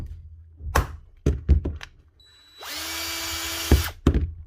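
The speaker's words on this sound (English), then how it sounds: "Big Allen key and a big hammer." A DeWalt cordless drill runs at low speed for about a second between sharp metal thunks of a big hammer striking an Allen key in the chuck to break it loose, with several hard blows before and after.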